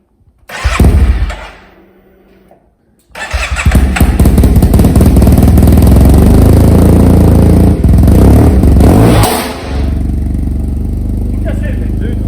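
A Yamaha TMAX scooter engine cranks with a brief burst, drops low, then catches and roars into loud, sustained revving close by for several seconds before settling to a steady idle.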